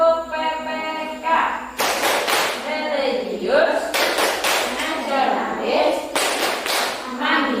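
A school class performs the Tepuk PPK clapping chant, with three bursts of sharp, rhythmic group claps alternating with children chanting in unison.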